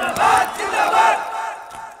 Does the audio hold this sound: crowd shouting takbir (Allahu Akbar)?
yes